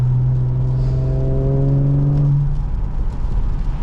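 A 2021 Audi S5 3.0T Cabriolet's exhaust drones loud and close for about two seconds with a rising engine tone, then drops away into wind and road rumble.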